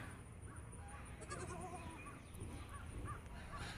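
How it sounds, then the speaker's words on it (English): Goats bleat softly in a farm goat yard, a few faint wavering calls spread over steady outdoor background noise, fairly distant and with no talking. "This is our goat yard."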